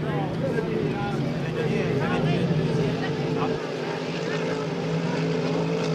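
Racing boat engines roar through a race at St-Félicien, a loud sustained whine with shifting pitch as the boats run the course, heard under continuous commentary.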